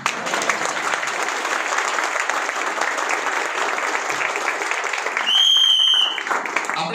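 An audience at a business success seminar claps steadily throughout, a loud continuous patter that swells near the end, with a brief bright electronic tone cutting through.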